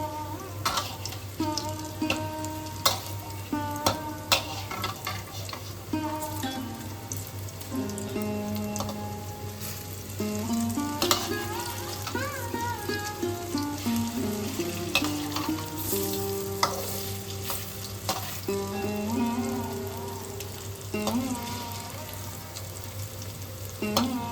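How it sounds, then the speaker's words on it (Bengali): Lentil fritters (bora) fry in hot oil with a continuous bubbling sizzle and scattered spits and stirring clicks, heard under background music. "বড়াগুলোকে উল্টে পাল্টে ভেজে নিতে হবে।"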